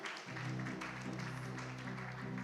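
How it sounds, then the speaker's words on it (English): Steady, dense applause from an event audience fills the whole stretch, with music playing underneath the clapping. "A round of applause, thank you."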